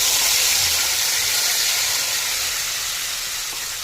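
Ground spice paste of ginger, cumin, coriander, chilli, tomato, poppy seed and mustard hits hot oil already tempered with asafoetida and whole cumin, giving a loud, steady broadband sizzle that eases slightly toward the end, with no talking.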